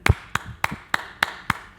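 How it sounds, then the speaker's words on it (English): Hands clap a steady rhythm of seven crisp, evenly spaced claps, loud and close, with no talking. "Let's clap the first motive."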